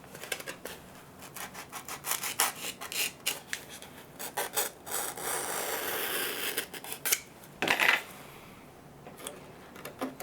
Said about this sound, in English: we're going to slide this off and we're going to cut a bevel on the underside